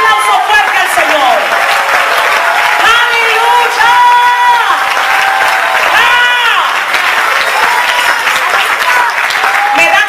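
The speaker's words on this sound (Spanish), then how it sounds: "Dale un aplauso fuerte al Señor." Loud applause and cheering from a congregation at an international church congress, continuous clapping with whoops and shouted voices rising over it, while music with sustained tones plays along.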